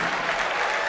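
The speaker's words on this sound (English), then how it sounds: "the Naugatuck crowd cheering loud for their Greyhounds" A home crowd at a high school boys' basketball final roars and applauds for the Naugatuck Greyhounds, a loud, steady wash of clapping and cheering.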